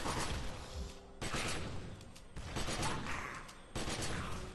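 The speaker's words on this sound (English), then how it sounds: "I'm using an assault rifle right now" An assault rifle in The Secret World video game fires in long sustained bursts, with short gaps between the loud rattling volleys.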